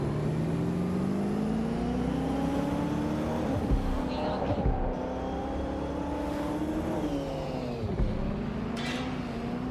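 A car engine drones steadily while driving in the video game Watch Dogs Legion, a continuous hum that rises and dips slightly in pitch, with a few brief whooshes and bumps over it, at a moderate, even level.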